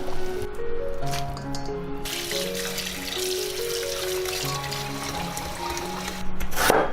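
Blanched chicken feet rinsed in water after parboiling with ginger and cooking wine, giving wet squishing and dripping sounds over a steady background of music-like tones, fairly close and continuous.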